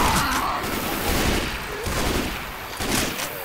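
Gunfire in Left 4 Dead 2 aimed at a Charger: loud, dense bursts of rapid shots that run almost without a break, with brief dips, under faint background voices.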